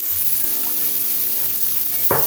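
Garlic and mushrooms sizzle steadily in a hot pan, a continuous close frying hiss, with a brief scrape or clatter near the end and no voices.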